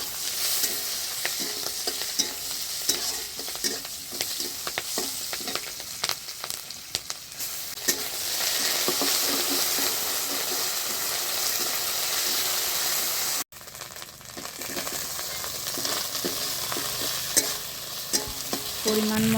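Chopped onion, green chilli, ginger-garlic paste and chopped tomato frying in oil for a Bengali egg curry, a steady loud sizzle with occasional stirring scrapes and a brief break near the end, no talking.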